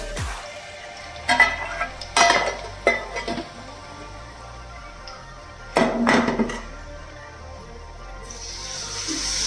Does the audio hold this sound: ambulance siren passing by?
no